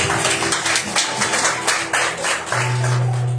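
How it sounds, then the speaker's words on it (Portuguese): Church congregation at a women's evening service clapping together, a dense, close run of rapid handclaps in an even rhythm, with a held organ or keyboard note coming in near the end. "Aplauda o Senhor nessa noite."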